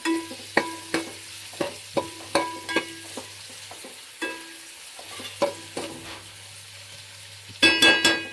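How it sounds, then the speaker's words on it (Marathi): Onions frying until golden for chicken yakhni pulao, stirred with a utensil in a steady rhythm of scraping strokes over a soft, continuous frying hiss; a sharper clatter comes near the end, close up, with no voices. "चांगला गोल्डन आता फ्राय होईपर्यंत तळून घेऊया कांदा चांगला"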